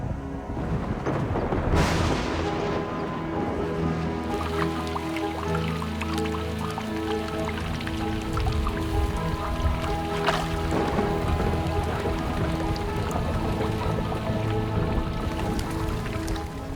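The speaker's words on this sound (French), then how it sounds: "Enfin, l'orage éclate, salutaire et providentiel." A thunderstorm breaks over the Luangwa valley with heavy rain dripping and splashing, a loud crack of thunder early on and a steady wash of rainfall throughout.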